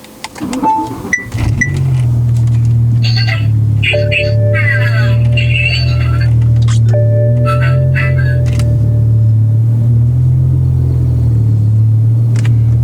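A car engine starts and keeps idling with a steady low rumble for the rest of the stretch, loud and close. Occasional beeps and electronic tones from the dashboard sit above it, and no one speaks.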